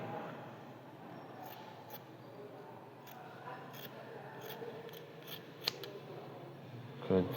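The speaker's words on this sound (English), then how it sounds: "Now we are going to cut this excess of fabric." Scissors snip away excess fabric from a sewn shirt collar, a series of soft, close crisp cuts spaced irregularly over a quiet room background.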